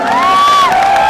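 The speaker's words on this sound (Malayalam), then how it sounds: "കൈയടി കൊടുക്കാം" A loud audience at a film trailer launch event cheers and shouts, with a shrill whistle gliding over the crowd noise in a brief burst.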